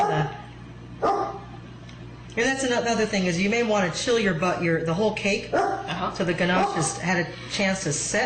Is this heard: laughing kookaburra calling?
no